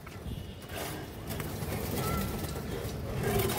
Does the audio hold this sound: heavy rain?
no